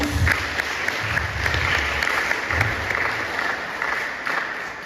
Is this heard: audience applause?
yes